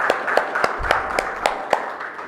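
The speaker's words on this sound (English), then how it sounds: "Can we have a great round of applause" A small corporate event audience gives a round of applause, with sparse, regular claps and sharp individual hits standing out over a soft continuous patter.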